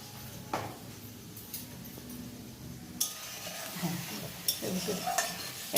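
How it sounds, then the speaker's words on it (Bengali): Spice masala for a vegetarian dinner being stirred and fried in a pan, with soft continuous sizzling and scraping strokes, a few sharper clinks of utensil against metal, close and moderately quiet. "মশলাটা কষাচ্ছি, মশলাটা অনেকটা কষানো হয়ে গেছে"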